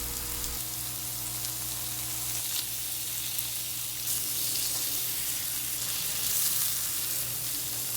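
Marinated tofu sizzles steadily in a hot pan, a constant crackling fry close to the microphone, with a faint clink of stirring early on and no talking.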